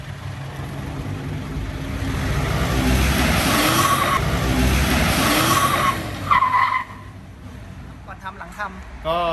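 A 2016 Mitsubishi Pajero launches hard from a standstill, its engine roaring and tires squealing loudly for several seconds before easing off, with someone talking over the noise.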